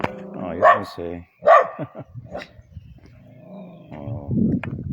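A dog near the Slavin Memorial in Bratislava gives a few sharp, close barks in quick succession, followed by lower grumbling yips, with a person talking in between.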